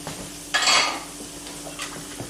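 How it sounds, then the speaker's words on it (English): Flour goes into hot fat in a pan while making a roux for chicken pot pie, giving one bright half-second sizzle burst followed by faint scraping and stirring clicks, close up, with no talk. "You can hear it sizzling."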